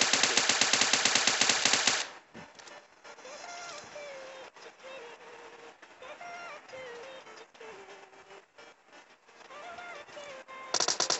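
Rapid bursts of automatic gunfire in PUBG Mobile open the clip, then fade into quieter game sounds with faint chirps, before another short burst of shots at the end.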